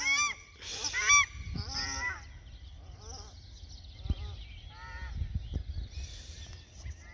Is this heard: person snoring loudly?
no